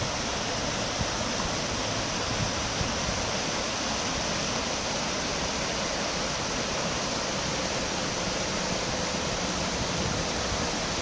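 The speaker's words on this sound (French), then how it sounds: "Petite cascade." Small waterfall on the Rivière des Galets in Réunion, a steady dense rush of falling water that holds even and unbroken throughout, moderately loud and without voices.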